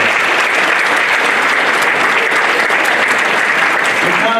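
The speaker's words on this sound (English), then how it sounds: "Give a round of applause for your" Loud, sustained applause from a large audience at the 2019 Victorian School Sports Awards, a dense continuous roar of clapping at constant level throughout, with faint crowd murmur underneath.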